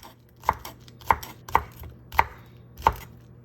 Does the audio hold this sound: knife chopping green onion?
yes